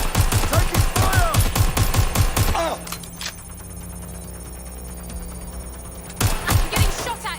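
Rapid automatic gunfire in a video game, a dense string of close shots for several seconds, a quiet lull, then another burst of firing.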